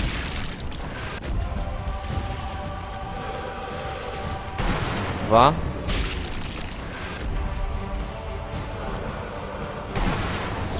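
Several sharp, booming sniper rifle shots in Sniper Elite V2, spaced seconds apart, each with a short echoing tail, amid background game ambience and a brief spoken word.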